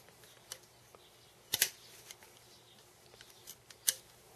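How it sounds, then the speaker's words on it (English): Scissors snip through river cane for a primitive hunting quiver, giving a few sharp, close clicks spaced apart against a quiet background. "So I'll just snip it."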